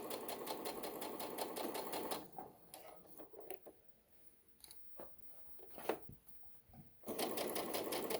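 A sewing machine stitches fabric for a little dress, running in loud steady bursts at the start and end with a quieter pause of faint clicks and handling noise in between.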